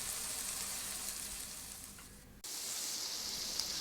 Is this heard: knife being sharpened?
no